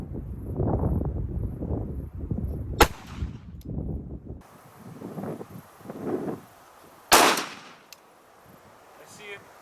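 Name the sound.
gunshot firing 210 grain .45 ACP round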